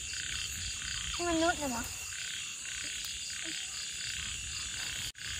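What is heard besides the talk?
frogs croaking in rice field at night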